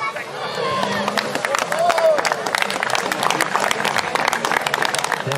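At an agricultural show in Salers country, a crowd applauds the champion Salers bull with sustained, dense clapping, loud and steady throughout, with murmured crowd noise beneath.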